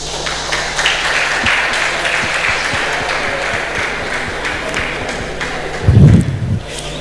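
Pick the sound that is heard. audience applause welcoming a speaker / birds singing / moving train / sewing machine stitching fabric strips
audience applause welcoming a speaker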